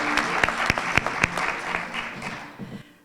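An audience claps at a medical school white coat ceremony, a moderate burst with a few sharp distinct claps that thins and fades out over about three seconds.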